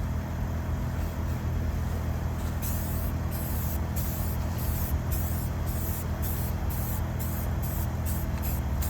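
Spray paint hisses steadily onto a truck part during a light first coat, a close continuous aerosol spray broken by short rhythmic pauses between passes.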